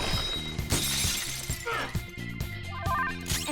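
Glass-like shattering effect from the Persona 5 Royal battle, a bright crash with a burst of high debris over steady game music and low rhythmic tones.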